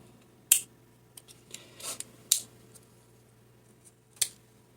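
Scissors snip through an egg carton being cut in half by hand, several sharp, close clicks spaced a second or two apart, with soft rustling of the cardboard between cuts.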